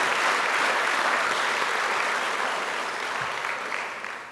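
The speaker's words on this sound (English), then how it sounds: "A round of applause for everyone involved behind the scenes" Steady, loud applause from a conference audience at a plenary closing session, thanking the organisers, a dense wash of clapping that holds for several seconds and then gradually tapers off.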